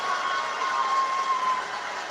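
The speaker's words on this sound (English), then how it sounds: "People are applauding" An audience applauding during the Chandrayaan lunar landing broadcast, a steady wash of clapping that sounds somewhat distant and is heard alone.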